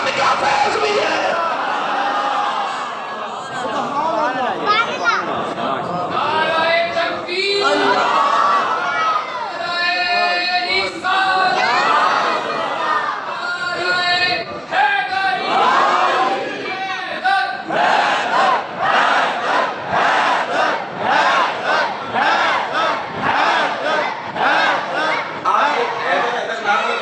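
A large crowd at a religious gathering honoring Ghaus-e-Azam chants and shouts slogans in loud, rhythmic bursts, with massed voices rising and falling continuously throughout.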